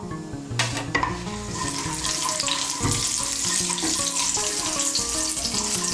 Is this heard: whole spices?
yes